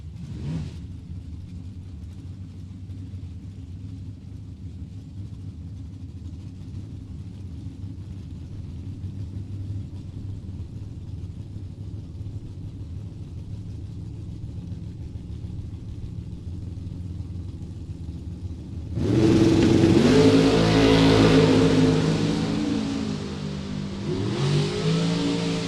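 A 1996 Pontiac Firebird and a Chevrolet Camaro sit at the line of a Super Pro drag race, engines idling in a low steady rumble for a long stretch before a loud launch roars up and holds, then eases back slightly.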